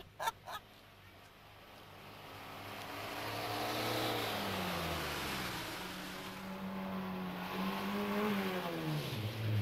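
A car accelerates hard in third gear, engine note rising steadily and swelling louder, then dropping and revving again near the end, after a couple of brief knocks at the start.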